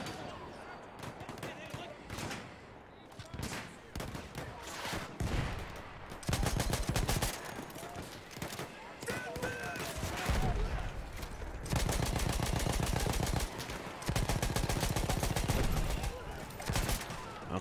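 Dense Battlefield 1 firefight, with rapid bursts of automatic and single gunshots crackling almost nonstop and growing louder and denser in the second half, while a player talks over the shooting.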